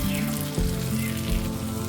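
Ridge gourd frying in a pan on low heat for a gojju, a steady close sizzle and crackle with a few soft knocks, no talking.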